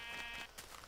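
A single sheep bleat from Minecraft wavers at a moderate distance, fading into a brief shorter call.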